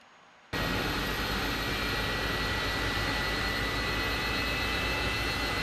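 Airbus A300-600F cargo jet engines run in MSFS 2024, cutting in abruptly after a brief hush and then holding a loud, steady roar with a high whine layered on top.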